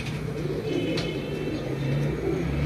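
Teddy breed pigeons bred by Ali Qureshi cooing in a loft, low throaty repeated coos close by over a steady background hum, with faint chirps above.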